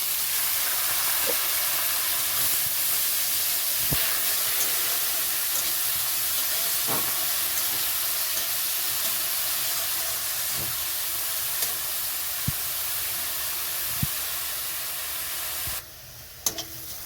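Onions fry in mustard oil in a wok with a loud, steady sizzling hiss, broken by occasional spoon taps and scrapes before the sound cuts out briefly at the end.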